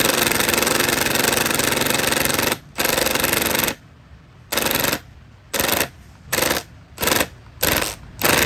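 A cordless model 2953-20 driver in auto mode drives screws with loud, close, rapid impact hammering, first a long continuous run, then a string of short bursts that each stop abruptly, separated by brief silences.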